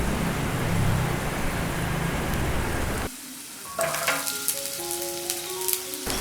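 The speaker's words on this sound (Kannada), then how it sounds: "ಈರುಳ್ಳಿ ಚೆನ್ನಾಗಿ ಟ್ರಾನ್ಸ್ಪರೆಂಟ್ ಆಗುವವರೆಗೂ ಹುರಿದುಕೊಳ್ಳಿ." Sliced onion and curry leaves frying in hot oil, a steady loud sizzle that suddenly drops away, followed by quieter crackling, soft stirring clinks and scattered pops, with no talking.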